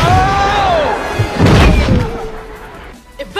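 The Expelliarmus disarming spell from a Harry Potter video game goes off as a swooping whoosh that ends in a loud booming crash. It fades into a softer rumble with a small sparkle at the end.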